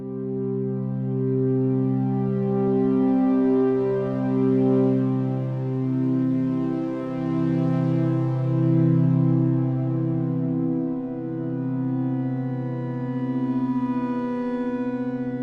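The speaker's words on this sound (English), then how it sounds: "now we're gonna get a little bit of that kind of phasey movement between the left and the right speakers" Lush Ableton Drift synth pad with slow chorus, sustained harmonic chords shifting gently between notes, with a swirling, phasey left-right stereo movement, loud and continuous with no voices.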